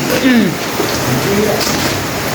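Heavy rain hisses steadily over a surface while a voice speaks over it, partly buried in the downpour.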